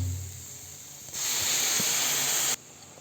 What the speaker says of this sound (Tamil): ஒரு டம்ளர் பால் ஊற்றியாச்சு